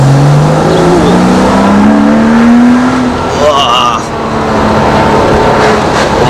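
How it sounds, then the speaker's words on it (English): Porsche Boxster S with a naturally aspirated flat-six, its exhaust revving loudly and rising in pitch while driven hard, engine note close and strong throughout with tire and wind noise underneath. "Hope you lot can pick up that exhaust note."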